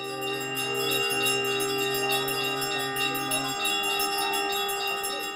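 Temple bells ring steadily in Chhattisgarh with a sustained, shimmering metallic resonance, layered tones droning continuously throughout without any voices.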